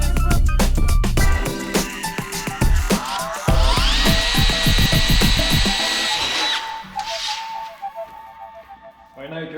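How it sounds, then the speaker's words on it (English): A power drill bores small holes into sheet metal, cutting in short bursts with a sharp rising whine and a sustained high screech as the bit bites, then dies away into faint shop noise. "now drilled some little holes in it"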